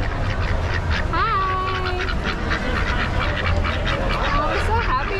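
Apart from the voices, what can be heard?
ducks quacking at state fair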